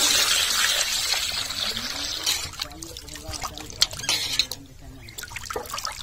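Cut pieces of rohu fish being rinsed by hand in a vessel of water, with steady sloshing, trickling and dripping splashes close by for several seconds, some sharper splashes midway and faint voice-like sounds mixed in.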